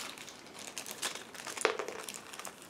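Plastic bags holding resin parts for a Special Hobby 1/32 Yak-3 model kit crinkle and rustle as they are opened, quiet and close, with one sharper crackle partway through.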